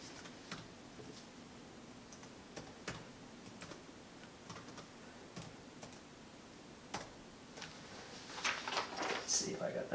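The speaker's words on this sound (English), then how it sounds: "I'm going to turn the unit around so I can type my password in." Sparse, irregular key clicks from a Pinebook Pro laptop keyboard as a password is typed, fairly quiet and close, with a slightly busier burst near the end and faint voice-like murmur in the background.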